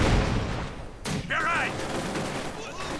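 A mortar round bursts in Company of Heroes 2, a Soviet-versus-German battle, as one sharp, loud blast about a second in over steady background combat noise, followed briefly by a wavering high tone.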